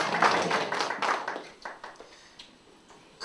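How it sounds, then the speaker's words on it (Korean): A church congregation claps during a sermon: a short burst of scattered handclaps that thins out and fades to quiet, rather faint and a little distant. "은혜가 되면 박수를 치세요"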